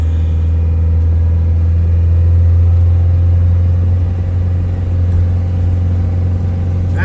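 A Land Rover 110 with a 200Tdi diesel engine drives downhill in bottom gear, giving a loud, steady low rumble that holds at an even pitch throughout with no voices.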